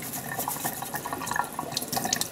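Tap water runs steadily into a sink while clams are washed by hand in a home kitchen, a close, continuous hiss with small splashes and no voices.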